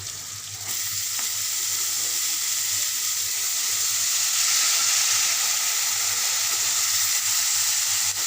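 Shredded cabbage fries in hot oil with turmeric in a pan, making a loud, continuous, close sizzle with a soft bubbling crackle. The sizzle holds steady throughout with no talking.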